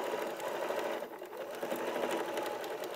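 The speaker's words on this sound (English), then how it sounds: "going to machine all around the top, and then we're going to bag it out" A sewing machine runs steadily, stitching around the top of a fabric piece in a sewing studio, its fast even mechanical whir continuous and close for the whole stretch with no talking.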